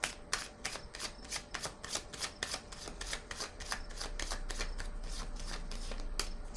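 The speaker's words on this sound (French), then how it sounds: "Je vais déposer une carte ici." Tarot cards being shuffled and laid down, a rapid run of crisp riffling flicks in quick regular bursts, close and quiet, easing into a softer continuous sliding rustle at the end.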